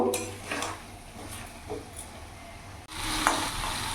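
Mutton curry being stirred and fried in a pan, with scraping spoon strokes over a steady low sizzle that grows louder and brighter in the last second, with no talking.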